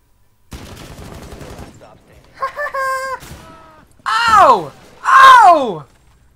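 A rapid, close burst of gunshots in Rainbow Six Siege, followed by tonal, wavering cries and groaning voices that rise and fall.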